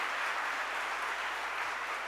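An audience claps together in a large hall at a youth conference, a dense continuous wash of applause held at an even level throughout, with no voices rising above it.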